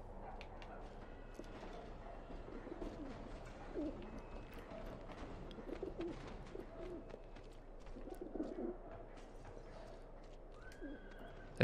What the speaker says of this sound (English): Kind of weird looking pigeons.